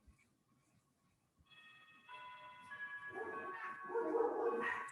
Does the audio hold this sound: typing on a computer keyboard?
no